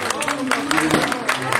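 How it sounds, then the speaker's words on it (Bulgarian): Guests at a child's second birthday celebration clap in scattered bursts, the applause moderately loud and close, mixed with voices talking over it. "Аплодисменти, скъпи гости."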